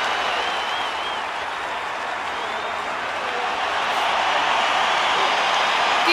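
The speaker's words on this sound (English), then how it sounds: "The applause from that crowd says it all." A large rugby stadium crowd applauds and roars in a steady, continuous wash for Shane Williams' final try for Wales, heard at a distance with no distinct voices.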